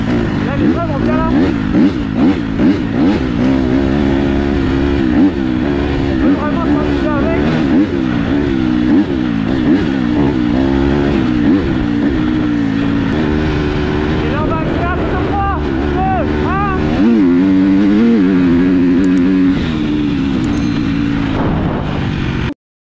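A KTM motorcycle's engine runs loud and close for a long stretch, with rising and falling revs and some sharper throttle surges. Wind buffets the bike in rainy weather, and a rider's voice talks over the engine.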